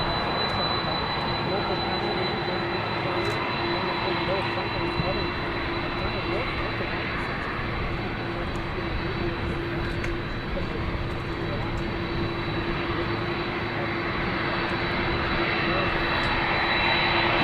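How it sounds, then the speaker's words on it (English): Air Force One, a jet aircraft, rolls in after landing at Palm Beach International Airport, its engines giving a loud, steady roar and whine with a constant tone throughout, while a voice speaks beneath it. "Air Force One has just landed"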